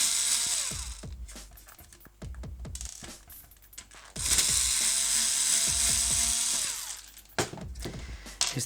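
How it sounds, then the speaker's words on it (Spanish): A power screwdriver takes screws out of an Xbox 360 E console in repeated ratcheting buzzes, with bursts of whirring between the clicks, close and fairly loud. "Quitamos estos 2 tornillos."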